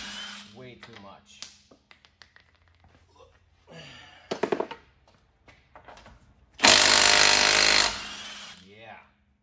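An impact wrench struggles to remove over-torqued lug nuts from the rear wheel of a Dodge Caravan or Chrysler Town & Country minivan: short bursts and tapping early on, then one long, loud hammering run near the end, with someone talking between.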